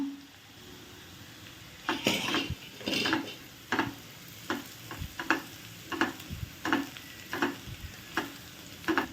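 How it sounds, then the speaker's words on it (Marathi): Onion and chili pieces frying in oil while a spoon stirs them nonstop: a steady soft sizzle broken by regular scraping strokes against the pan, close and without speech. "कांदा चांगला सतत हलवतच असा थोडासा सोनेरी रंगावर भाजून घ्यायचा आहे"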